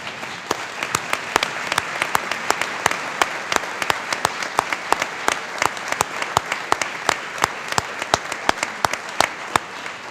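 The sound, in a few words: applause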